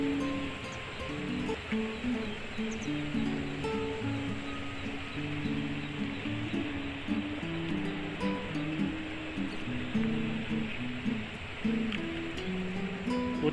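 Floodwater released from Angat Dam rushes steadily as a broad, continuous roar of fast-moving water, close and loud throughout with no pauses, while faint tonal sounds drift beneath the constant flow.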